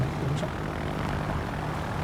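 Propeller aircraft engines drone steadily from planes launched in the World of Warships naval video game, a continuous low hum holding at an even level throughout with no speech.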